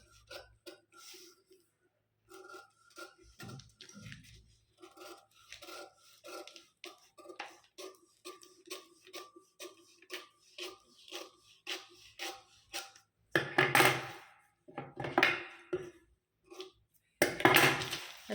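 Scissors snip through paper along the lower edge of a size 38 princess-cut blouse pattern, giving a run of quick, close crisp cuts with soft paper rustle and handling, growing louder and busier toward the end.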